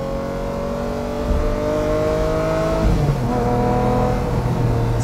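A Lamborghini Murcielago Roadster pulls hard under acceleration, its engine note climbing in loud sweeping pitch rises with a gear-shift break partway through, heard from inside or close to the car without talk.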